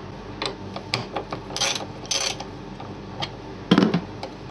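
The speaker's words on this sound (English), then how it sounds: "Remove this 10mm bolt, this 10mm bolt, and this 10mm bolt." A hand ratchet clicks in quick irregular bursts while 10mm bolts are loosened from a Volkswagen Passat wiper motor, close and crisp with small metallic rattles between strokes.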